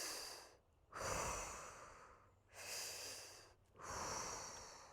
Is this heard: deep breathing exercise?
yes